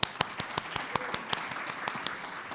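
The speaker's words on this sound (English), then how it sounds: "Round of applause for the Congress members and a round of applause for Baltimore" Applause for members of Congress at a public event on healthy food access, heard as a spaced series of sharp claps, a sparse audience clapping in a hall, moderate and slightly distant.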